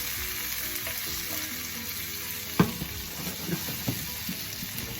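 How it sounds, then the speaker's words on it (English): Gravy stirred in a pan on a stove over medium-low heat, a steady soft sizzle with intermittent scraping clicks of the utensil against the pan, one sharper knock midway, close and continuous with no talking. "I want to continue to stir this off"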